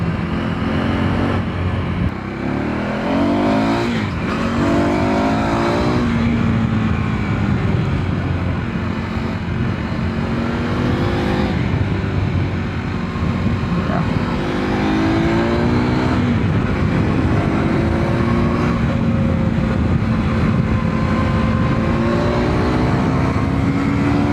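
A KTM Duke 390 R single-cylinder motorcycle being ridden, its engine droning loud and close with rising and falling revs throughout, plus steady wind rush.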